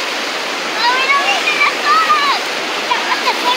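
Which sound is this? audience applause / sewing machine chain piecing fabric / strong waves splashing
strong waves splashing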